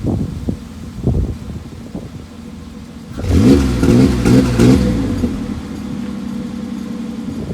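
Lowered Ford Sport Trac with a V6 engine revs hard during a 2-step launch-control test, a loud sustained rev rising after a few seconds of quieter idle and outdoor wind noise, then easing back toward idle.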